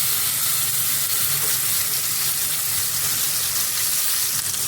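Grated raw mango hits hot oil seasoned with panch phoron, giving a steady, loud, broadband sizzle and hiss that holds evenly with no talk.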